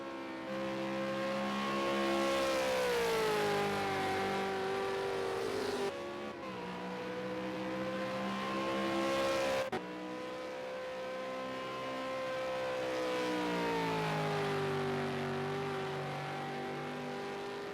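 V8 Supercar race cars at Willow Springs International rev hard with loud, steady engine notes that rise and fall as they shift gears. There are brief cuts between cars and no talking.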